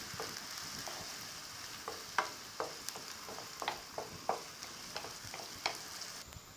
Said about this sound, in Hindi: पहले हम इसको फ्राई कर लेते हैं। इसको हल्का ब्राउन होने दें।